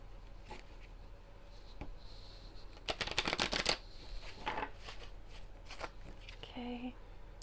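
Tarot cards pulled and drawn from a deck close by, a brief flurry of papery riffling and card snaps, with a voice speaking around it.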